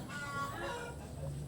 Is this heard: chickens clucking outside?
yes